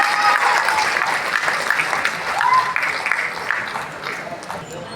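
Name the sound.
applause welcoming performers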